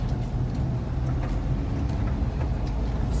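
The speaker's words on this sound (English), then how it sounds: "We are driving on the lake" An off-road vehicle drives across a dry, rocky lake bed, giving a steady, close rumble of engine and tyres with broadband road noise and no pauses.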